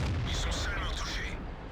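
Artillery fire in the tank video game World of Tanks, a dull boom with a rumbling tail and crackling debris, heard under a voice.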